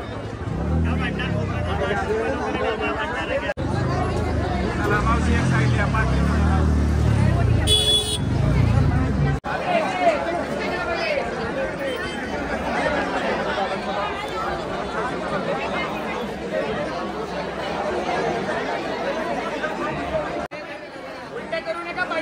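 A dense crowd mills around the Ganesh temple at Jejuri, creating a continuous babble of many voices with passing vehicle noise and an occasional horn. A nearby person talks over the hubbub.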